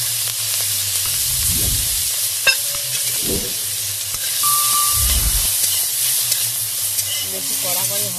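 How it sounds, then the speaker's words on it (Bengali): Turmeric-and-salt-coated shrimp frying in hot oil in a wok hiss with a constant sizzle, broken by a few low bumps and a brief clink, with a faint voice near the end. "আমি চিংড়ি মাছটা ভেজে নেব। কড়াইতে তেল দিয়ে দিলাম।"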